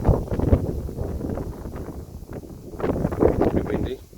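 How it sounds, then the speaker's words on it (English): Gusty wind buffets the microphone in uneven rumbling bursts, rising and falling over a few seconds. "Pretty windy."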